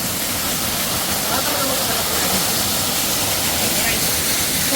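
A waterfall sends out a steady, unbroken roar of rushing water, a dense wash of noise with no distinct events.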